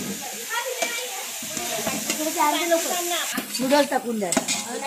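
Mixed vegetables for Chinese noodles being stir-fried in a large pot, with a steady sizzle, scraping spatula strokes and metallic clinks against the pot, while a person talks over the cooking.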